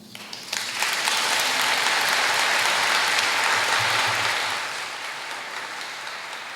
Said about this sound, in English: Let's give her one more round of applause, please